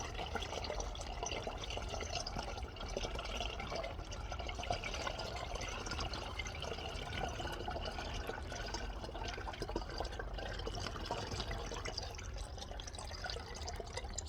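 Transmission fluid drains steadily from a Hyundai Equus or Genesis sedan into a pan, giving a continuous close liquid pour and trickle with no talk.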